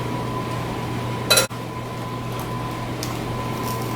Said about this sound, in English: I'm just using this large spoon to kind of scrape off what's sticking to the little measuring spoon